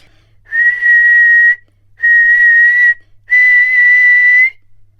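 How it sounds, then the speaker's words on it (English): A shrill, steady silver whistle sounds three times, each blast about a second long with short pauses between, loud and clear against near silence. "blew 3 times upon her silver whistle"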